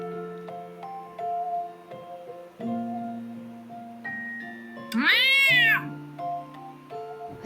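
Cats meow in the video game Honkai Impact 3rd over soft tonal game music, several separate meows, with a loud drawn-out wailing cry near the middle.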